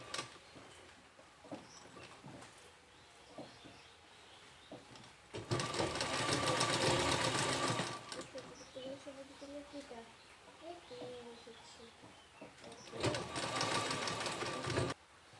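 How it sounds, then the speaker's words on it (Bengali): An electric sewing machine stitches fabric to set hooks and eyes, two fast rattling bursts of several seconds each, with someone talking quietly in the pauses around them. "দেখুন আমি সেলাই করে নিয়েছি"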